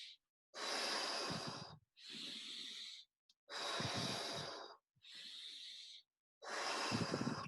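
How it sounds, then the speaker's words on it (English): Slow, deep breaths during a guided meditation and breathwork session, five long airy inhales and exhales of about a second each, separated by short pauses, close and clear with no talking. "So we're going to take 5 more deep breaths together"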